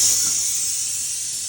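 Lamb meat for biryani frying in a pan with spices, a loud, steady sizzle and hiss close up that fades slightly over a brief moment.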